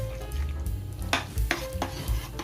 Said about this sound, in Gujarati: મસાલાને થોડું મિક્સ કરતા રહીશું, તેલ છૂટું પડે ત્યાં સુધી.